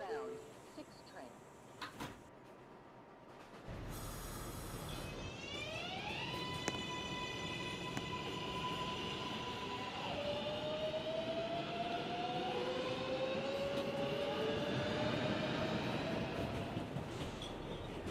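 A Manhattan-bound 6 train on the New York subway, heard from inside the car: door thumps, a rising whine of the motors pulling away, then a sustained tonal hum and rumble as it runs, with a recorded announcement voice.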